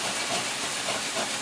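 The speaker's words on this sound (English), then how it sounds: "go ahead and deglaze that pan" Half a cup of Marsala wine hitting a hot pan to deglaze it, giving a continuous, fairly loud steamy hiss with no voices.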